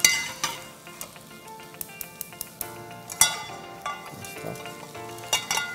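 Onion cooking in oil in a frying pan, a soft steady sizzle under sharp clinks and taps of a utensil against the pan, close and fairly quiet, with no talking.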